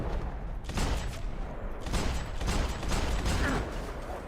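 Dense bursts of gunfire in the video game Max Payne 3 crackle repeatedly over a loud continuous rumble, with bullet impacts and mechanical clatter layered close together throughout.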